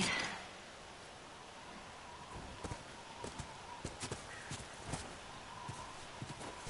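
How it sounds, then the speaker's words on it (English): A horse's hooves clip-clop at an easy walking pace in The Last of Us video game, the footfalls faint and spread out over a quiet ambient bed. "Why don't you watch the horse?"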